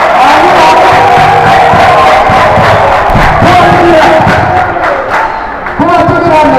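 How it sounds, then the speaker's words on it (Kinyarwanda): A church congregation applauds and cheers in praise of God, a loud, dense, continuous roar of clapping and shouting voices that fills the whole stretch. "Gukomera Imana amashyi."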